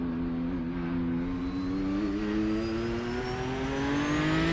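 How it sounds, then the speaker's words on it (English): Race car engine in a racing video game, run in second gear with the pedal floored at Silverstone, a steady loud rising drone whose pitch climbs gradually over several seconds, continuous and alone with no talk. "I'm going to pop it in 2nd gear, and I'm going to floor the pedal and just listen to the response."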